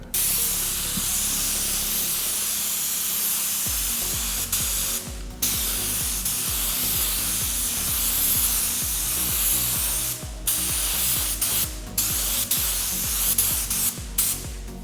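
Spray gun laying down an intercoat from an Alsa chrome paint kit, a steady continuous hiss broken by a few short pauses as the trigger is released, close and fairly loud throughout.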